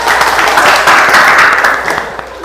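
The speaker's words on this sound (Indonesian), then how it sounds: "Oke, tepuk tangan." A class of schoolchildren clapping together in a classroom, a dense patter of many small hands that fades slightly toward the end, with faint voices mixed in.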